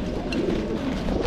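A pigeon coos in its loft, a soft throaty murmur that carries on steadily through the short stretch, close by and with no talking over it.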